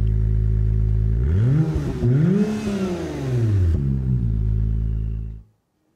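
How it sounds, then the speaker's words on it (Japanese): A deep Honda NSX engine, mounted low, idles, then revs up and back down in smooth swells before cutting off into silence. "そしてエンジンこちらになっています。 低く搭載されている音聞いてみてください。"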